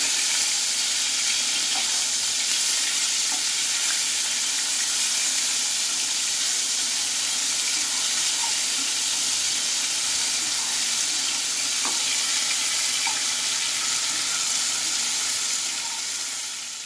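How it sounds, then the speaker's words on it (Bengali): Prawns frying in hot oil, a steady hiss of sizzling with faint scattered pops throughout, moderately loud and close, no voices. "তেল গরম হয়ে গেছে এবার আমি চিংড়ি মাছগুলো ভেজে নেব"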